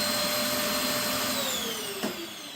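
A vacuum cleaner runs steadily with a loud, close whine whose pitch drifts slowly lower, with a brief bump near the end and no voices.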